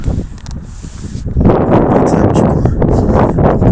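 Gusty wind buffets the microphone with a low rumbling roar that grows stronger partway through, continuous and close.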